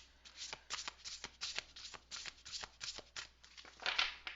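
A deck of cards being shuffled close up, a steady run of quick, soft riffling flutters with a brighter burst of card slaps near the end.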